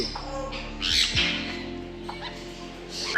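A sun conure parrot at a zoo lets out a few loud, harsh squawks at close range, separated by short pauses, with faint background noise.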